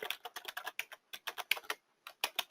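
Keys on a computer keyboard clatter in quick, irregular bursts as a lowercase password is entered, close and clear with short pauses between clusters of strokes.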